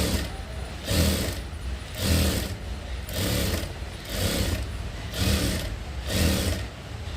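An electric sewing machine stitches along the edge of a sleeveless blouse in about seven even bursts of fast whirring, each separated by a short pause.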